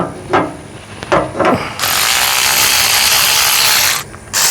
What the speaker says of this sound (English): Using the new ratchet, it's working.